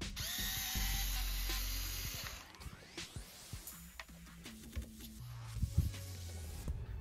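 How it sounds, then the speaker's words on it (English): Small screwdriver or power tool removing two screws from the strap loops of a JBL Charge 6 speaker during a teardown, a brief whirring at first, then quiet scattered clicks and handling noises. "Next, we'll remove the 2 strap loops by unscrewing 2 screws."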